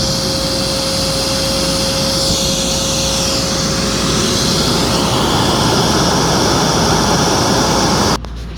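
Steady, loud rushing exhaust airflow from a running Singer Lazer Storm AS 01A vacuum cleaner, a constant whooshing roar with a faint tone, cutting off abruptly near the end.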